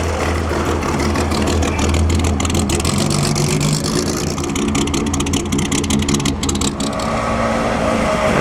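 A Maserati engine at the 2009 Mille Miglia road race, loud and continuous with revving surges over crowd ambience.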